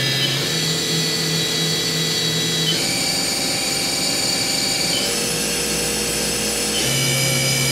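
Spindle of a Haas VF-2D CNC vertical machining center running at about 3,000 RPM, a loud steady high whine with layered tones that shift in stepped changes, close and continuous without voices.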